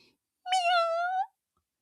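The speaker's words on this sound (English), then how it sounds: "There it was, a tiny sound coming from somewhere outside. Meow!" A single cat meow rings out from outside in a garden, clear and moderately loud, lasting under a second against near silence.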